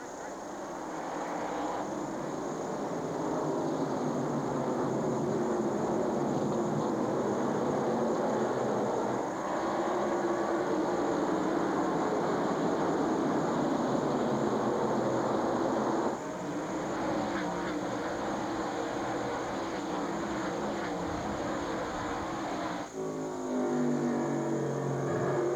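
Late-1990s NASCAR Busch Series race cars roar together off the green flag, a dense, sustained engine drone that stays loud and steady throughout, with an announcer talking over the pack.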